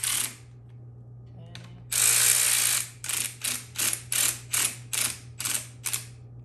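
An 8mm ratchet wrench works a tight bolt on a YZ250 dirt bike, giving a long continuous burst of clicking followed by about nine evenly spaced ratcheting strokes, close and clear over a steady low hum.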